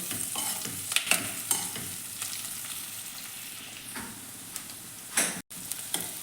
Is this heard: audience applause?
no